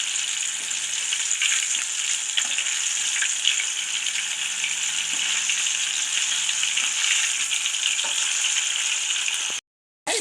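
Popcorn chicken pieces deep-fry in hot oil with a dense, even hiss and crackle that holds steady throughout before a short break near the end.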